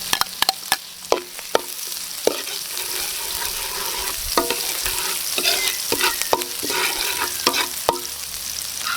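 Ginger, garlic and onion sizzle steadily in a hot pan as a spoon stirs and scrapes, loud continuous frying hiss punctuated by sharp clinks of the utensil against the pan.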